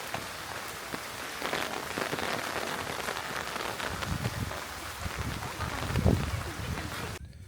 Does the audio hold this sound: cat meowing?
no